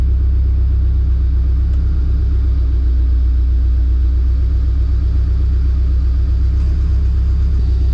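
A car engine with a GReddy Supreme aftermarket exhaust idles steadily with a deep, throaty exhaust rumble, low and constant throughout with no revving; the exhaust leaks where it joins the canister.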